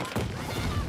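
An incendiary grenade goes off in Battlefield 2042, a loud, dense burst of crackling, rattling combat noise that fills the whole second without a pause.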